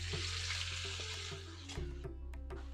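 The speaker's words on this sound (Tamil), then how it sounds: "நம்ம விட்ட எண்ணெய் சுட்டெடுத்து நான் வந்து இந்த பாலக்கீரை சேர்க்குறேன்" Two bunches of spinach fry in hot oil for palak keerai thokku, a close, moderate sizzling hiss over a low steady hum that eases off partway and continues more quietly, with no one talking.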